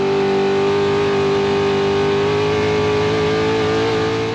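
A Baja 1000 trophy truck pulls away from a pit stop during the race, its engine a steady, loud, sustained drone that holds a constant pitch and fills the whole stretch with no voices over it.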